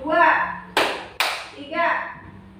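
Two sharp hand claps in a classroom counting game, spaced about half a second apart, loud and close, with a voice speaking just before and after them.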